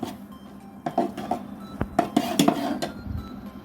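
Spoon stirring beef caldereta with liver spread in a pot, with irregular clinks and scrapes of metal utensil against cookware up close, in a quick uneven rhythm.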